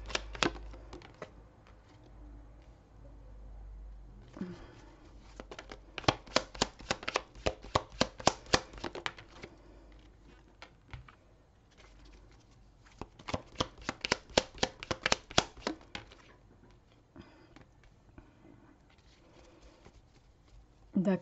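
Oracle cards shuffled during a love and romance reading, heard as two long bursts of rapid riffling clicks with quieter handling between them, up close.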